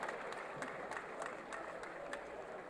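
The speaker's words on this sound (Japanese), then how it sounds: "今延長までもつれる激闘を戦った選手たちに応援席、観客席から大きな拍手が送られています。" Applause from the supporters' section and stands at a high school boys' soccer final in Hiroshima, heard at a distance as a soft, steady patter with faint rhythmic claps, no speech.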